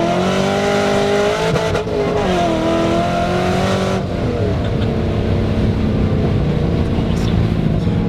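A Chevrolet C5 Corvette Z06 accelerates hard in second gear, its V8 rising loudly in pitch for several seconds before a shift. The engine then settles into a lower, steady drone with some road rumble.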